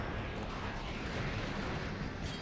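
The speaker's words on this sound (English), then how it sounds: "Ooh, that's a lot of explosion." Explosions in the shooter game Resistance 3 rumble as a dense, low roar that holds steady throughout, ending with a sharp, louder burst.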